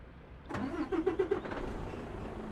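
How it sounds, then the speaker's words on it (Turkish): Truck engine cranking and starting in Euro Truck Simulator 2, a quick series of starter turns catching into a low steady idle, close and moderately quiet, with no talking. "Şöyle kontağı da açtık."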